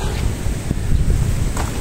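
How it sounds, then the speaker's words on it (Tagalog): Strong typhoon wind roars into the microphone, a dense low rumble with brief gusty surges and no voices. "Kasi sa lakas ba naman ng hangin, nayugyug talaga sila."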